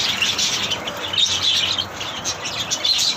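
Pet birds on a cool, windy morning, chirping and tweeting in bright repeated bursts with occasional wing flaps, close and fairly loud over a soft breezy background.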